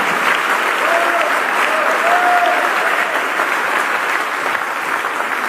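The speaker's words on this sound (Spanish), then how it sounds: "Dele un fuerte aplauso al Rey de Reyes y Señor de Señores." A Spanish-speaking church congregation gives loud, sustained applause, a dense continuous wash of clapping with faint voices and shouts mixed in.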